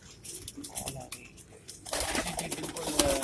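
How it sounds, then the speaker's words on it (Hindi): A Ferozpuri pigeon gives soft cooing calls close by amid a busy loft, with a burst of fluttering and scuffling noise joining in halfway and continuing to the end. "ये फिरोजपुरी कबूतर है भाई जी"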